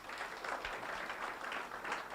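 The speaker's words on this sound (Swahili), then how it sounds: "Tuwapigie makofi yake." A seminar audience in Nairobi applauds after a stage show, a steady patter of many hands clapping at moderate distance, fairly soft and unbroken throughout.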